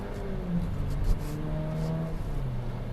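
A 2020 Jeep Renegade accelerating after a downshift, its engine note rising and shifting pitch through a steady road hum, moderately close, with no talking.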